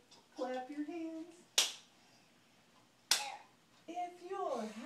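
A child claps twice with sharp, close, single smacks, spaced about a second and a half apart, between stretches of a singing voice.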